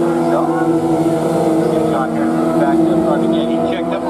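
Dwarf cars racing at Barona Speedway during a heat race, with a steady drone of engines droning and whining together from the track, partly masked by talk over it.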